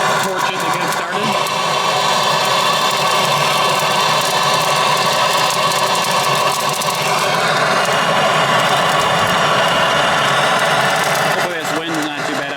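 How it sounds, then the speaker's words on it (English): A MAP gas torch burns outdoors with a loud, steady, continuous roar that runs almost unbroken, along with wind buffeting and some talk. "using the map torch, I'm just gonna torch it to get it started"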